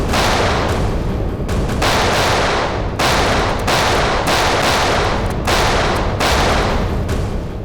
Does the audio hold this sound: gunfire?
yes